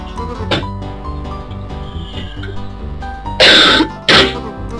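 Loud, harsh coughing and throat clearing in two close bursts near the end, heard over continuous video game background music.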